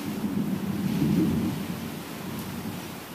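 A deep rolling thunder rumble swells and fades over a steady wash of rain outdoors during a storm, with no talking.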